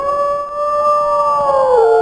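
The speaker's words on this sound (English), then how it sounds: "let me go ahead and just howl" A wolf howl in the video game WolfQuest, a loud, close, sustained tonal cry that holds steady and then bends downward at the end.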